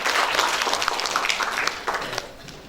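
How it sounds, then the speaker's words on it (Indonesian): An audience at an Indonesian health event on Posyandu community health services applauds warmly and steadily for an arriving speaker, a dense wash of many hands that slowly thins out. "Kita berikan tepuk tangan kepada Bapak Dr."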